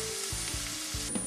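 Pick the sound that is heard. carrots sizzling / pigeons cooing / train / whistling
carrots sizzling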